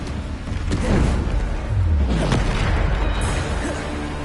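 Heavy booming blasts of a Bombarda spell erupt in the video game Hogwarts Legacy, a couple of loud deep explosions with rumbling tails, close and forceful.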